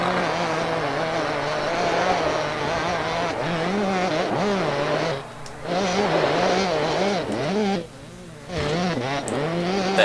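A buzzing motocross bike engine from the video game Championship Motocross 2001 revs and wavers continuously, pitch climbing and dipping with the throttle, briefly cutting out twice, while a voice talks over it.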